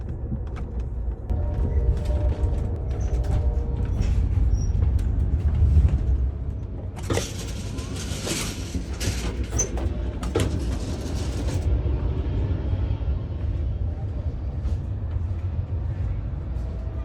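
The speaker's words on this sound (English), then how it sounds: "The train sped through it undaunted." A long-distance passenger train rumbles steadily along the tracks, with creaks, rattles and a burst of clattering metallic noise partway through, heard from inside the carriage.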